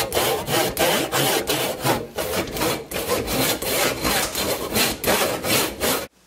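A handsaw cuts through a wooden dowel and an old broom handle in a workshop, loud close back-and-forth strokes in a steady rhythm, about a dozen passes before stopping abruptly.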